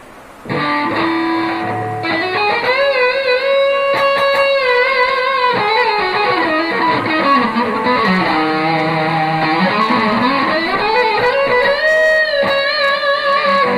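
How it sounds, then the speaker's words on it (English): An electric guitar plays with heavy distortion, sustained gritty notes bending and sliding up and down, loud and continuous from start to finish. "So let me switch over to the distortion."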